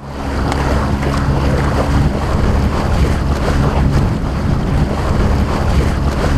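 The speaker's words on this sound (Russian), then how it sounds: "Рев мотора, расслабляющий ветерок и освежающие брызги воды." A motorboat engine roars steadily beneath heavy wind buffeting and rushing water spray, loud and continuous with no voices.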